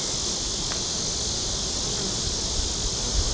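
Honeybees swarm and drone steadily around an open, honey-packed hive during an inspection, a dense continuous buzz close to the listener with no talking.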